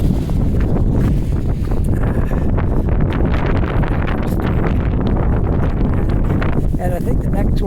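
Strong wind gusting around a street in Halifax's North End, loud continuous buffeting and rumbling across the microphone throughout.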